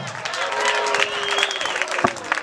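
A school competition audience claps and cheers, with a steady wash of applause and crowd noise under voices and a few sharp accents near the end.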